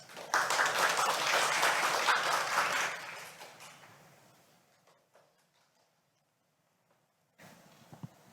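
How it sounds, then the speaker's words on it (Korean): An audience at an opening ceremony of an academic conference gives loud, sustained applause for a keynote speaker. The clapping fades out gradually, and a few faint handling noises follow. "뜨거운 박수로 맞이하겠습니다."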